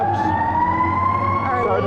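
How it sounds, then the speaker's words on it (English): Fire truck sirens wail steadily from several emergency vehicles breaking away from a veterans parade in downtown Roanoke, Virginia; loud, continuous rising tones with a low engine rumble beneath. "sounding their sirens."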